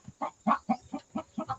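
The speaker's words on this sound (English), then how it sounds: "Golden Comet Cross chickens is hollering, but she don't have no egg in there." Golden Comet cross hen hollering in a coop, a run of about seven loud, evenly spaced clucking squawks close by, with no talk.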